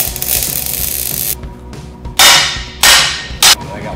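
Hammer blows on the metal parts of a Dana 44 axle during welding, with three loud, sharp separate strikes after a stretch of steady welding or grinding noise in the workshop.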